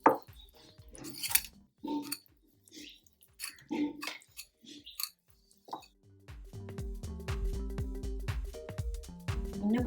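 A utensil clinks and scrapes against a bowl while cake batter is mixed with milk for an oven-free homemade cake, in irregular knocks and stirs, with a voice speaking between them and music rising in the background.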